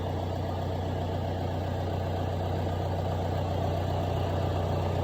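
A John Deere 6320 tractor with a replaced injection pump idles steadily at a moderate distance, its low, even diesel rumble running unbroken and fairly quiet.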